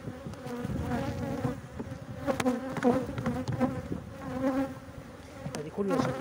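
Honeybees buzz at the hive on frames of foundation comb, a dense, wavering hum of many insects close by, rising and falling with occasional sharper passes.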